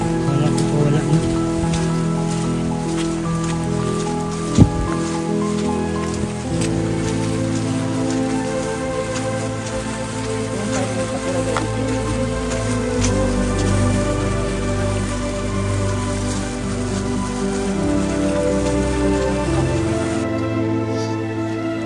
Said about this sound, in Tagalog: tuwing pupunta kami dito, grabe ang ulan. Kagaya ngayon po.